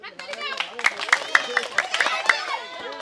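Audience claps in a quick series of sharp, evenly spaced claps while children chatter and shout, cheering on a girl playing a balloon-on-head egg-collecting game.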